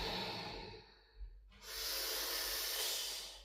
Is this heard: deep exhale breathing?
yes